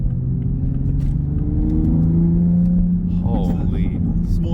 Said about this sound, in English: You want to just sit in the Tesla parking lot and just rev your engine for a while?